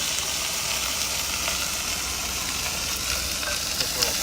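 Tomato paste sizzling and spitting steadily in a small camp pan while being stirred, a dense continuous frying hiss with faint scraping, close and alone.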